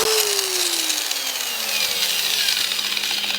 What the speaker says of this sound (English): Okay, so I got it started with my grinder there.